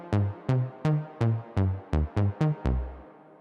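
Moog Minitaur analog synthesizer bass notes drenched in reverb, nine punchy staccato hits in a steady rhythm with the last one held, tails washing out afterward, close and clear with no talking.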